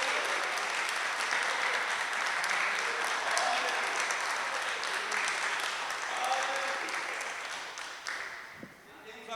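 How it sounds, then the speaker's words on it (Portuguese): A church congregation claps together in a sustained round of applause, broad and steady, tapering off near the end with a few stray sounds. "Ele merece uma salva de palmas."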